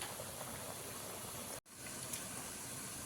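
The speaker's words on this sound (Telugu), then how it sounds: "ఇలా ఫ్రై చేసుకోవాలండి" Shakarpara dough made with maida and sugar fries in hot oil. It gives a faint, continuous sizzling hiss that is briefly cut off by a short gap before resuming.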